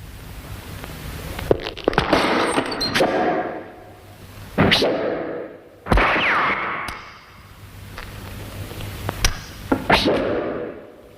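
Gunshots in a Telugu movie scene: several loud, sharp cracks spaced a few seconds apart, each trailing off into a short echoing tail, with no talk over them.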